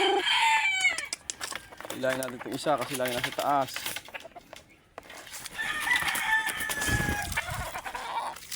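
Roosters crow repeatedly nearby, several long calls overlapping, while someone talks over them and clucking fowl fill the background.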